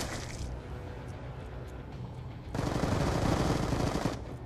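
Sustained automatic gunfire from the shooter game Decerto (BoA Action): steady distant firing runs throughout, then swells into louder, closer rapid bursts for the final seconds.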